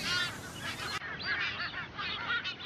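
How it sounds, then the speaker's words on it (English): White-tailed tropicbirds, also called bosun birds, calling on an Atlantic island: a run of loud, repeated harsh honking cries in quick succession, close by with no voices. "Sailors nicknamed them bosun birds because their calls sound like a bosun's whistle."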